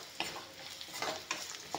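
Spoon stirring ground cumin and spices into a hot frying pan while cooking a fish curry with eggplant and peas, giving several scraping strokes over a soft sizzle, close and moderately quiet.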